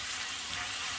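Bananas cook in hot caramel in a pan, giving a steady, faint, close sizzle with no talk.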